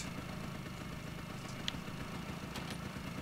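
A boat motor running in the fishing game Russian Fishing 4, a steady low engine drone holding at an even idle-like pitch, with a faint clatter now and then and no talk.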